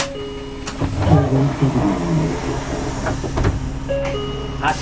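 A Kanachu Isuzu Erga Mio bus pulls away, its medium diesel engine revving up and droning steadily at close range, with short chimes and a brief announcement tone at the start and near the end.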